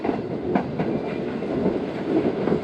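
The Pak Business Express passenger train runs toward a station, a close, continuous rumble of wheels and carriages with a few sharp rail clacks.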